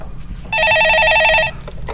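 A telephone rings for a call-in stock market radio show, one sustained electronic trilling burst of about a second, loud and close, with faint studio background around it.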